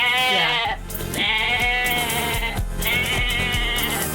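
A goat sound effect plays loud and close: several drawn-out, wavering bleats follow one another, nearly filling the whole stretch with only short breaks between cries.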